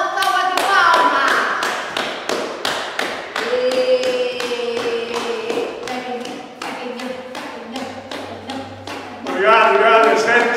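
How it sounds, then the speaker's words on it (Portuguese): A small audience at an acting workshop gives a round of applause, with sharp, distinct claps scattered unevenly. Voices call out and sing over and between the claps. "Uma salva de palmas!"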